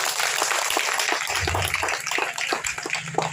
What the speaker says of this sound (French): Et je voudrais qu'on nous applaudisse.